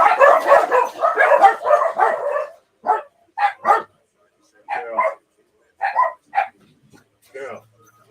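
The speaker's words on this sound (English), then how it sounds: "I'm gonna make the dogs bark, honey." Dogs bark in short separate bursts, several close barks after a stretch of someone talking to them at a livestream; the barking is fairly loud and intermittent.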